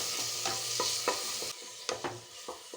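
A spoon stirs finely chopped onion in a pan in a home kitchen, with soft scraping strokes in an uneven rhythm over a faint sizzle, close and quiet, with no talking.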